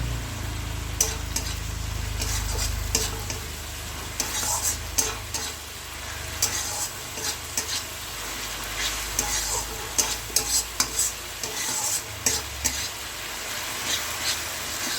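Tomato, garlic, green chili paste and a little turmeric fry in a pan, making a steady sizzle broken by repeated scraping and clinking stirs of a spoon, close up.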